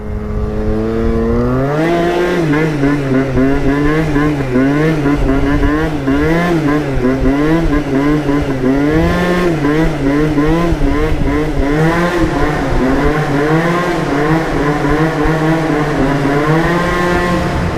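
Yamaha Neo's 70cc two-stroke scooter engine revving hard during a wheelie, a loud buzzing whine that rises sharply at the start and then wavers up and down in repeated throttle swells.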